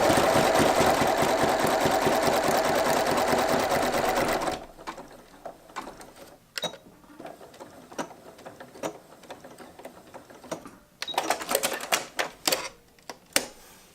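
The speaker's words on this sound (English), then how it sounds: "I'm going to just sew all the way around" A sewing machine stitches steadily around the edge of a small quilted sea glass mini art piece, a loud continuous mechanical whir for several seconds, then stops, followed by quiet clicks and fabric handling.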